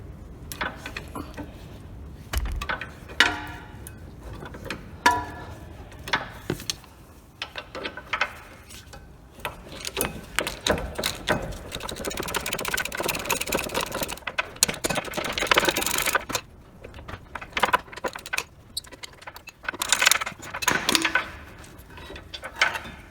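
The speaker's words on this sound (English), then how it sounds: "We'll get a ratchet on there shortly." A ratchet works loose the bolts of a Land Rover Discovery 4 rear brake caliper carrier, giving irregular bursts of close mechanical clicking and clanking with pauses between and no talking.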